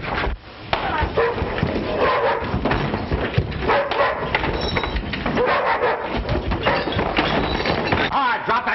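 A hungry dog in an old 1937 film barks and yelps in bursts, fairly close, over a dense, noisy old soundtrack that also carries voices.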